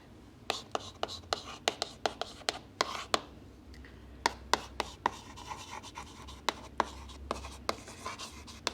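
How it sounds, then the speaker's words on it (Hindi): A pen writes a study note by hand, making a steady series of sharp taps and scratchy strokes close to the microphone, regular and fairly loud against a quiet background. "चलो अब एक और नोट लिखेंगे नीचे"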